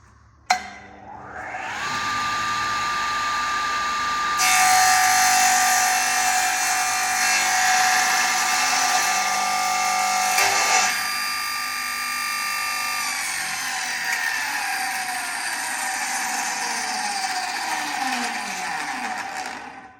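A power saw spins up and makes a long, loud cut through timber for a bedside table during a restoration. The whine holds steady for most of the run, then winds down as the blade slows to a stop.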